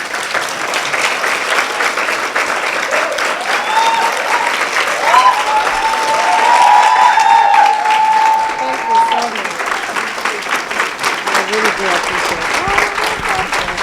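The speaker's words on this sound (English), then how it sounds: "Another round of applause, ladies" Audience of women at a chat event applauding steadily for over ten seconds, a dense even patter of clapping with some voices and a whistle-like tone rising briefly through the middle.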